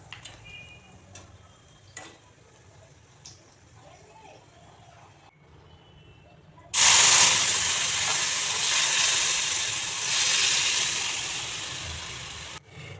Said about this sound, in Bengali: তেলটা গরম হয়ে গেছে, দেখুন আমি কি ফোড়ন দিচ্ছি। এখানে লাল সরিষা আর রাঁধুনি নিয়েছি।